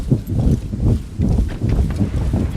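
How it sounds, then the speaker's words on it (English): War horses gallop across the battlefield in Empire: Total War, a muffled, steady rumble of hoofbeats with wind-like noise, mid-distance and alone without talk. "War horses."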